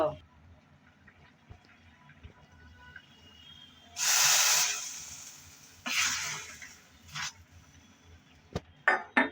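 Hot tempering oil, fried until red, poured over cooking jute greens: sharp hissing sizzle bursts, a loud one lasting about a second, then shorter spurts, over a quiet kitchen background.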